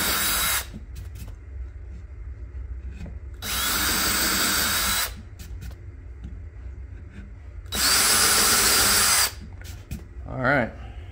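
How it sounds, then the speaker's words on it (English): A power drill countersinks screw holes in a wooden board in two loud, sustained high-pitched whirring bursts of about one and a half seconds each, close by, over a steady low hum with brief knocks and handling noise between. "Now I'm going to countersink them."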